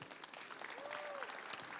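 A crowd applauds a student at a Weslaco High School college signing, fairly faint but steady clapping with a thin tone briefly sounding over it.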